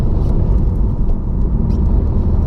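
A Porsche 964 rumbles at a low, steady drone while driving, a close, continuous engine and road hum with little variation.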